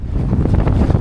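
Strong wind buffets the microphone across a wide open river expanse, a loud, continuous rumbling roar with gusty pulses and no voices.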